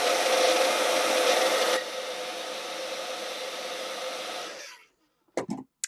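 A handheld blow dryer drying ink artwork runs with a loud, steady rushing whir, drops to a lower setting partway through, then cuts off, followed by a few brief handling knocks near the end.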